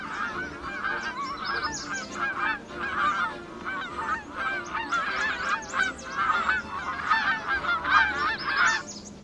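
A flock of geese honks continuously and loudly, many overlapping nasal calls in a dense, restless chorus like birds flying in pursuit.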